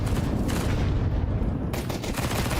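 Rapid automatic MP9 submachine gun fire in a Counter-Strike match, dense continuous bursts of shots filling the whole stretch with steady loudness and no clear gaps.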